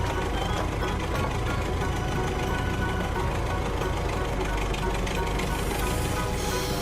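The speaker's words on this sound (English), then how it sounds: "Now we will see how our excavator moves." A cartoon excavator's engine runs in a steady, dense drone that holds evenly throughout, with a faint rattling texture and no clear pauses.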